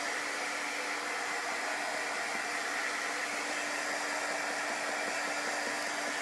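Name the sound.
hair dryer drying chalk paint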